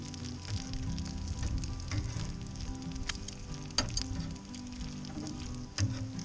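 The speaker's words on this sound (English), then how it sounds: "continue to give the onions a toss and a stir, as well as turn over all your half strips of bacon" Bacon, onions and eggs fry on a grill with a steady, close sizzle and crackle. Occasional sharp ticks and scrapes of stirring and turning break through, with no talking.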